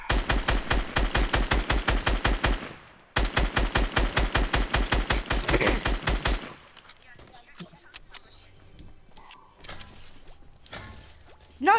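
Video game gunfire, two long bursts of rapid automatic fire with evenly spaced loud shots and a brief gap between them, then quieter scattered noises and a final sharp hit.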